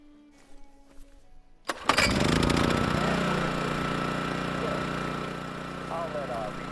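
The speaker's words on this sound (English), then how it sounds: "Just stick a little fuel in the generator and fire it up." In a video game, a fuel-powered generator is filled and fired up. After a few quiet clicks and clunks, the engine catches abruptly and settles into a loud, steady, close running roar.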